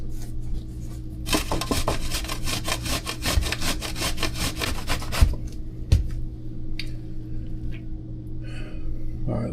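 Zucchini is grated by hand for zucchini bread, giving a fast run of rhythmic rasping strokes close up for several seconds, then stopping, with a few scattered scrapes and knocks afterward.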